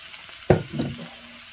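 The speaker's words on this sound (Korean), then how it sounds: "철판에서 지글지글 익고 있습니다" A short burst of hissing and sizzling as balloon flower root hits a hot iron griddle, quickly settling into a quieter crackle.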